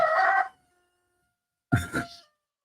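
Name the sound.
rooster crowing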